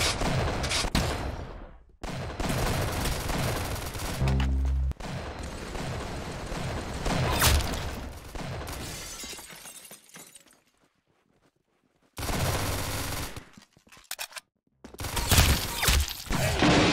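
Gunfire and shattering impacts from a Roblox shooting game, loud bursts that run for several seconds, drop into near silence, then return in short sharp volleys.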